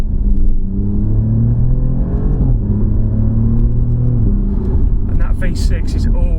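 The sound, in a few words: Alfa Romeo Giulia Quadrifoglio V6 exhaust note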